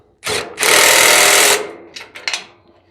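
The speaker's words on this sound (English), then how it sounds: "let's tighten them up. Now, I like to use impact." An impact wrench tightens bolts on a welding skid: a short rattling burst, then a longer hammering run of about a second, followed by a few quick brief pulses nearby.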